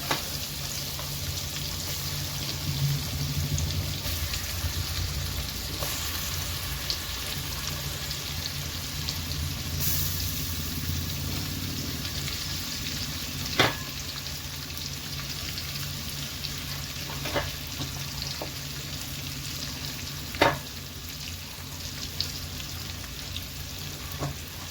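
Pieces of freshwater fish fry in a pan over medium gas, giving a steady low sizzle with a few sharp crackles and pops.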